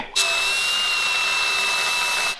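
A power tool cuts through a metal bracket on a transmission crossmember in a vehicle build shop, starting abruptly as one loud, steady, high-pitched whine that holds for about two seconds before cutting off.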